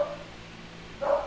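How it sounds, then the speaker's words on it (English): A dog barks twice, a short bark at the very start and a louder, fuller one near the end, with a quiet gap of room tone between them. "God dang, dog barks every day."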